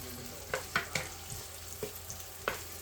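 Onions frying in a pan for spaghetti bolognese, a soft steady sizzle broken by several sharp clinks and scrapes of a utensil against the pan, no one talking.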